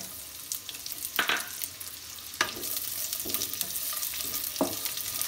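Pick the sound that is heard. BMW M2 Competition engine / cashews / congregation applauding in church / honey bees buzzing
cashews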